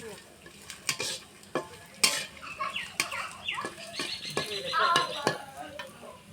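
Chilli and garlic frying in a pan in a home kitchen, a steady close sizzle under repeated metallic clinks and scrapes of a spoon stirring against the pan.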